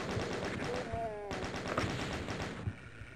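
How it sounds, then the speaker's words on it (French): Rapid machine gun fire from the classic shooter game Doom, a dense rattling burst of shots running steadily throughout, loud and close, with a brief rising whine partway through. "Je pense que je vais prendre la mitraillette."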